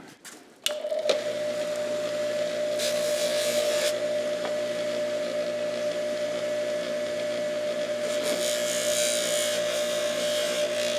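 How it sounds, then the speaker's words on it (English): A motorcycle seat washer is pressed against a spinning bench buffer wheel, a steady motor hum that starts abruptly and runs continuously, close and moderately loud, with faint scraping bursts as the part touches the wheel. "I think we'll just run across the buffer wheel really quick."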